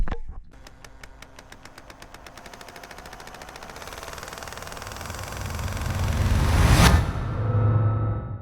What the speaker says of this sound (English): So I'm on Danny's four-wheeler.